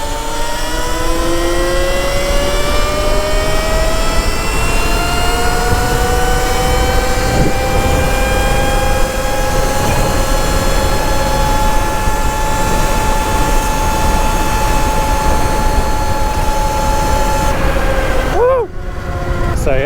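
A Sur Ron electric dirt bike fitted with a 58-tooth sprocket accelerates to top speed, its motor whine climbing steadily in pitch under loud, constant wind roar until it cuts off near the end.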